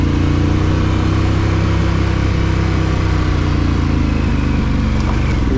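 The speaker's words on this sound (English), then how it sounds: "you can just click it up a gear and let the bike roll out" An adventure motorcycle engine on a trail ride running steadily with a droning mid-pitched hum, a brief change in tone near the end as it is clicked up a gear and rolls on, with no talking.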